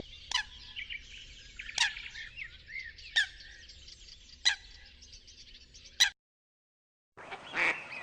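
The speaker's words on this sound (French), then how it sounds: "La foulque macroule." A Eurasian coot gives a series of abrupt, sharp calls at spaced intervals over a quiet hiss, then a short burst of calling after a pause.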